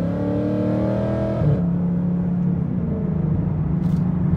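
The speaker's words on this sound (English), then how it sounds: "Gotta love that exhaust, that coarse exhaust." A 2019 Ford Mustang GT exhaust rumbles steadily from inside the car while driving, with a deep harmonic drone that shifts pitch as the engine eases off partway through and then settles into a lower, continuous burble.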